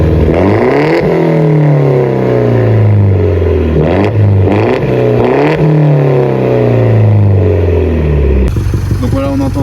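A Peugeot 208 GTI engine revving hard toward a 6000 rpm limiter, loud and close, with rising and falling pitch sweeps across repeated blips and an audible turbo whine, closing with a sharp shift in tone.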